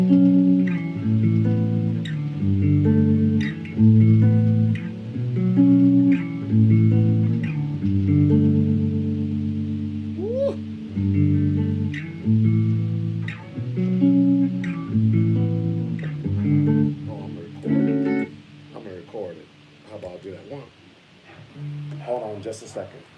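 Electric guitar played through effects, layered chords and melodic notes ringing with a thick, processed sustain for a long stretch, with brief flourishes and a quieter, sparser ending.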